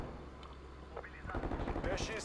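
Gunfire from the video game Call of Duty: Cold War bursts in after a quiet moment, dense rapid shots mixed with game effects, while a man exclaims over it.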